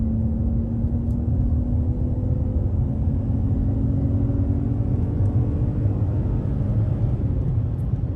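A base model Dodge Challenger muscle car floored on a straightaway, heard from inside as a steady, deep engine drone that rises slowly in pitch over a constant low road rumble.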